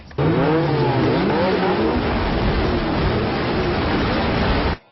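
A car engine revs hard with rising and falling pitch sweeps, loud and close, then settles into a steady roar before cutting off abruptly.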